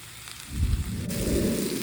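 Chicken teriyaki stir-fry sizzles on a flat iron pan, a soft crackling hiss that swells after a brief quieter start and carries on steadily, close and without speech.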